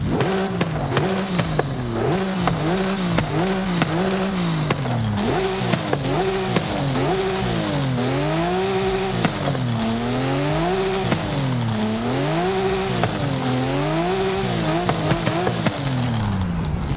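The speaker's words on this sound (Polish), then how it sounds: "A teraz posłuchajcie opcjonalnego wydechu." A 2019 Porsche 935 race car engine in Forza Horizon 5, fitted with its optional exhaust, revs continuously, its pitch sweeping up and down in repeated rising and falling waves, loud and close with a raspy exhaust tone.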